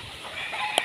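Pet roosters on a farm near a hut, a brief soft cluck rising over faint background noise at the end.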